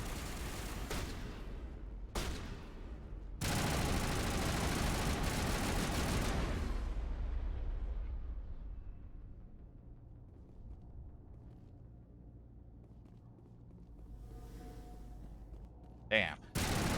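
Mass Effect gunfire erupts in loud bursts, then a long, dense roar of sustained shooting that slowly fades into quiet, ending with a sharp short burst.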